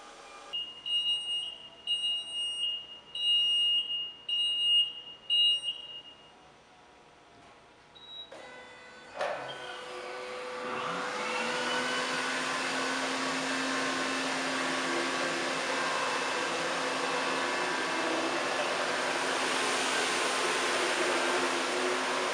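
A Hurricane 900 floor scrubber drives forward with a steady, loud mechanical whir and hum that rises after a few short electronic beeps and a clunk, then runs on continuously without talk.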